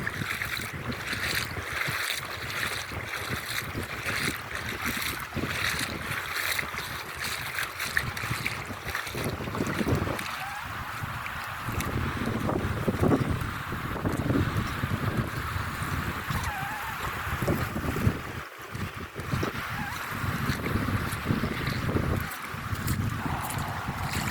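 A small outrigger boat carries passengers over clear water, its hum and water wash steady beneath strong gusting wind buffeting the microphone throughout, with occasional bumps and no talk.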